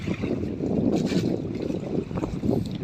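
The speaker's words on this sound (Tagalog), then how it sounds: "Yan, lumakas yung hangin." Strong sea wind buffets a fishing boat offshore, a steady, close, rushing roar with gusts swelling and fading, partly microphone wind noise, and no voices over it.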